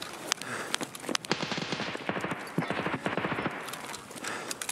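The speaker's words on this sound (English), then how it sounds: "That's a HK firing back at him." Rapid bursts of HK rifle fire in the shooter game Escape from Tarkov, a string of sharp cracks in quick succession with short pauses, moderately distant over a faint background.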